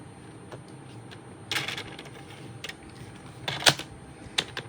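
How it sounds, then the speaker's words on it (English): Close, quiet mechanical clicks of a paper trimmer and a couple of brief sliding swipes of its blade across paper, with a low hiss of room noise in between. "since it's such a long line, it's just easier using the trimmer"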